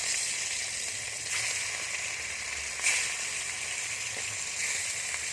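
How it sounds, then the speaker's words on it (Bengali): Rohu fish frying in hot mustard oil gives a steady, broad sizzle and hiss that runs the whole time, with a slight swell near the middle and no voices. "গরম হয়ে গেছে এবার দিয়ে দেবো সর্ষের তেল কয়টা গরম হয়ে গেছে এবার দিয়ে দেবো মাছ"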